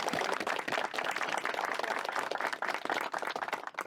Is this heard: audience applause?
yes